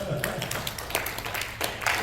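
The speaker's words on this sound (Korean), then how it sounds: "예배가 방해받지 않게 박수 한번 해줍시다" A church congregation claps in a scattered, muffled burst under a steady low background hum, with a voice faintly audible alongside the clapping.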